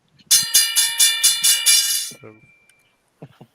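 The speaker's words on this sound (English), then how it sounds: "I've got the bells ready." A bright metallic bell is struck about seven times in quick succession. Its ringing tone lingers, then a few faint voice sounds follow.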